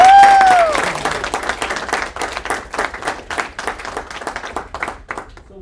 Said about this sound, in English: let's give one more warm round of applause for class